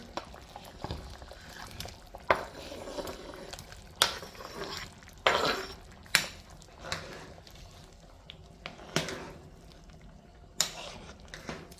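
Pot of Jamaican spicy chicken soup in hot water bubbling on the stove, a soft continuous simmer broken by clinks and stirring knocks, close and fairly quiet with no voices.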